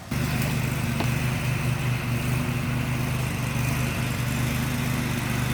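A riding lawn mower's small engine drones steadily at a constant pitch, running continuously at moderate distance with no breaks.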